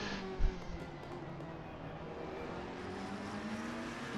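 A McLaren race car engine droning steadily during a race, the sustained engine note holding throughout with a brief thump near the start.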